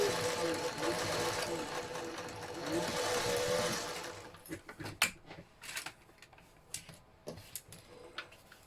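A sewing machine runs in a steady, fast mechanical whir for several seconds, then stops, leaving scattered clicks and taps.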